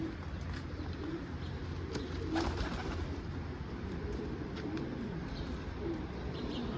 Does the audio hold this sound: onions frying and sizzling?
no